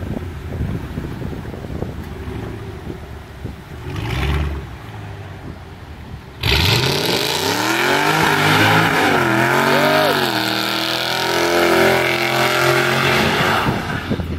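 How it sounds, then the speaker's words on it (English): Ford Mustang GT engine roaring into a burnout, quiet rumbling at first, then a sudden loud surge of revving that rises and falls and holds strong to the end, with wind noise. "Raw power of the Mustang."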